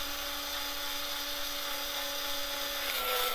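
A cheap Hyper Tough power driver drives a small screw, giving a steady, faint high motor whine that holds constant for about three seconds, then drops slightly in pitch near the end.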